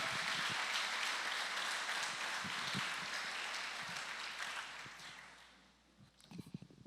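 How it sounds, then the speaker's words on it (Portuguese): A church congregation claps during a service, a broad wash of applause that stays soft and distant, then thins out and fades toward the end with a few scattered claps. "Você pode aplaudir Jesus?"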